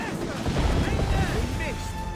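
Ship cannon fire and explosions during a naval battle in the video game Assassin's Creed Rogue, heard as a dense, loud rumbling din of booms and crashes with voices shouting over it.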